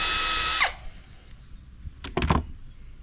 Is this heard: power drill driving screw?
yes